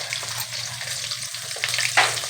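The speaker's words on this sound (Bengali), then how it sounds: "মাছগুলো একদম কড়া করে ভেজে নেব" Fish frying crisp in a wok, giving a dense close-up sizzle with crackling spatters and a few louder bursts of popping, with no voices.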